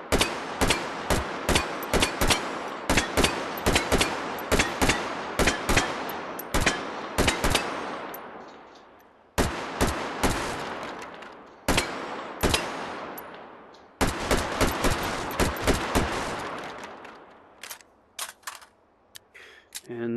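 AR15 rifle fire in the VR shooting game H3VR, sharp close semi-automatic shots in quick rapid bursts with short pauses between strings, each crack loud and crisp with a brief decaying tail.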